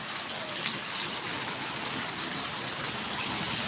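Rain falls during a morning walk, a steady, close hiss of water with no breaks and no talking.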